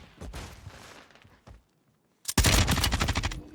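Loud bursts of automatic gunfire from a firefight in Call of Duty: Warzone 3, with rapid shots, then a short silence and a dense sustained volley of close gunfire.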